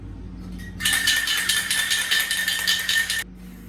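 A spray gun lays down a coat of finish in a workshop: one steady, loud hiss that starts abruptly, holds for about two and a half seconds, then cuts off against a quiet room.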